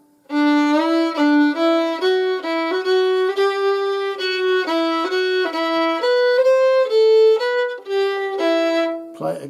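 A solo fiddle plays the Irish slip jig Kid on the Mountain at a slightly slowed tempo. Each bowed note comes through clearly in a steady, lilting triple-time phrase, close up and with no voices.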